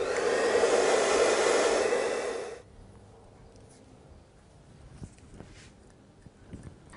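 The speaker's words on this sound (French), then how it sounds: "Je vais un peu sécher la laque pour pouvoir finir ma mèche." Hair dryer blowing on hairspray at the hair roots, a loud, steady airy whoosh for about two and a half seconds that then cuts off, leaving faint handling noises and soft breathing.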